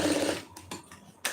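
A sewing machine stitching a lined blouse gives a short close run of stitching that stops after a fraction of a second, followed by faint mechanical clicks and a final sharp tap.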